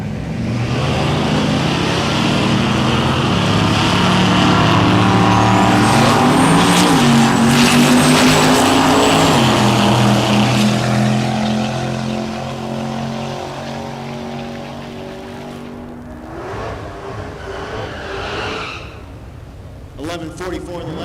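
Drag racing cars roar at the Texas Motorplex with a Corvette in the right lane, loud sustained engine howls rising in pitch and then fading into the distance under an announcer's commentary.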